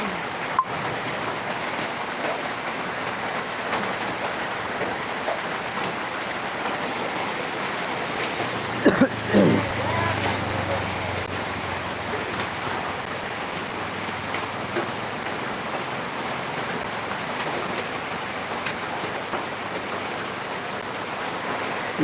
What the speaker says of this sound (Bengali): ভাবলাম যে বসে এখানে বৃষ্টি উপভোগ করি